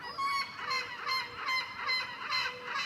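Geese honk repeatedly in an outdoor spot in Europe, a series of moderately faint, rhythmic nasal calls about every half second with no talking.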